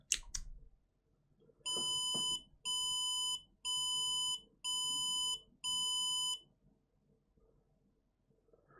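A MiSTer FPGA Mini-ITX computer emits five long electronic warning beeps in an even rhythm, each about a second long with short gaps, loud and clear against a quiet room after some handling noise at the start.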